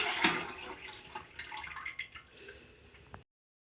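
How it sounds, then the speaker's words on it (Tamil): A mango being washed by hand in water, with close splashing, dripping and sloshing in a sink or basin, the loudest splash near the start, then softer trickles before a sudden cutoff. "மேங்கோ எடுத்து நல்லா இப்படி தண்ணியில் நல்லா கழுவிடலாம்."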